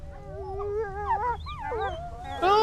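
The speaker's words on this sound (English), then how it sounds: "Oh, the little puppies are in there." Wolf pups in the Witcher 3 video game give high, wavering whimpers and thin howls that rise and bend in pitch, several voices overlapping and alone, with a louder cry at the end.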